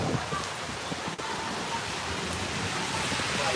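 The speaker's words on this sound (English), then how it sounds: "that rain" Steady rain pours down in a dense, continuous hiss, with one brief knock or click partway through and no voices.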